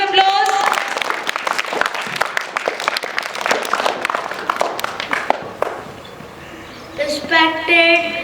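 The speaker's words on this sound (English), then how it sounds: "Give him a huge round of applause" Students and teachers at a school poem recitation competition give a class 4 boy a long round of applause. Many hands clap steadily, then the clapping dies away and a voice begins speaking.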